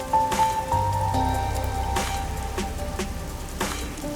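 Rain falls in a neon-lit city district in the video game Master Detective Archives: Rain Code, a steady patter heard alongside soft synth tones and a few sharper drop hits.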